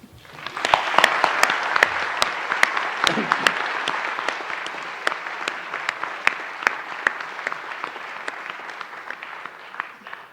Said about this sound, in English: perhaps we could give everybody a round of applause